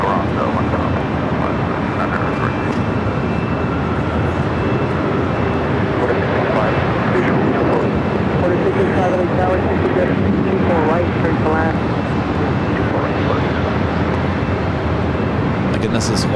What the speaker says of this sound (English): this is Hawaiian Flight 9, the flight heading back to Honolulu, A330-200